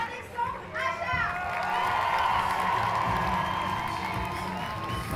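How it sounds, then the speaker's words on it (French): A cinema audience at the premiere of Horns with Daniel Radcliffe cheers, applauds and shouts in a dense, sustained roar. Voices and whistles carry throughout as the crowd noise swells and stays loud. "tout ce petit monde commence gentiment à arriver dans la salle de cinéma sous un tonnerre d'applaudissements"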